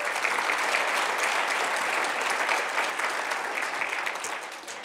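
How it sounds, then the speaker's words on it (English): Steady, dense applause from a large audience at a transgender justice event, sustained evenly throughout before tapering slightly at the end. "Give yourselves a round of applause."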